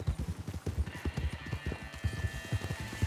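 Video game horse hooves walking, a steady, close clip-clop of hoofbeats on hard ground in an even rhythm, with a faint high electronic tone running underneath.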